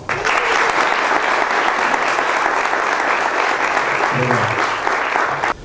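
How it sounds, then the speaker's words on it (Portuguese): Warm, sustained round of applause from an audience at an inauguration ceremony for economists, dense and even from start to finish, with a faint voice surfacing briefly near the end. "eu gostaria que desse uma calorosa salva de palmas"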